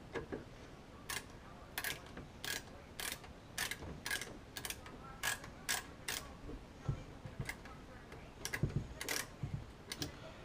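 Loose screws spin and rattle in a PC case during a 2015 system build, giving a faint series of sharp ticking clicks in irregular bursts over quiet background noise.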